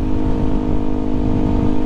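A Yamaha WR155R motorcycle exhaust drones with a steady, throaty rumble, held at a constant rev for a couple of seconds, loud and close.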